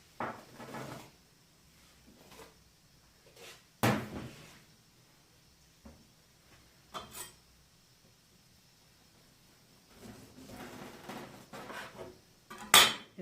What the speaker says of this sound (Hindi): अब इसको किसी बर्तन में डाल देते हैं।